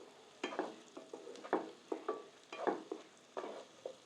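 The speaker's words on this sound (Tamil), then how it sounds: "இதை ஒரு கண்ணாடி பதத்துக்கு வதக்கினா போதும்." Onions sautéing in a pan for crab curry, a soft sizzle broken by repeated scraping stir strokes in an irregular rhythm, close and fairly quiet.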